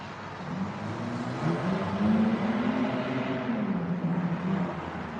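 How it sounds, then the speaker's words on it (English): A car drives under a bridge, its engine note rising and swelling as it passes, echoing in the enclosed space over a low rumble, with no talking. "What car is making that noise under the bridge?"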